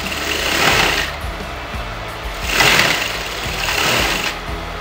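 A sewing machine runs a long gathering stitch on a circle-skirt lehenga, its steady motor whir rising and easing in a few swells.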